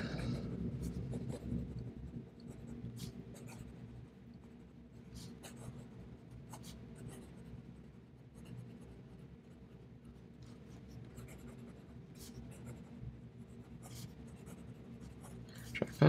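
A TWSBI Vac Mini fountain pen scratches steadily across paper, a faint, continuous nib scratching with small ticks as strokes start and stop, heard close and alone.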